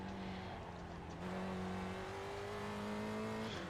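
Spec Racer Ford race cars lap Oulton Park in iRacing, engines droning and shifting pitch as they run through traffic in a steady, continuous roar with no talk.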